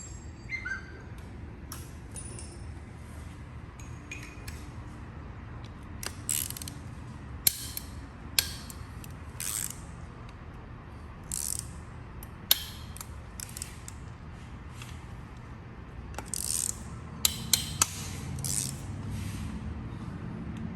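A ratchet works loose 6mm Allen bolts during a teardown of a 3.8 engine from a 2013-2016 Hyundai Genesis Coupe, giving faint, irregular clicks and creaks with a few sharper ticks over a low mechanical hum.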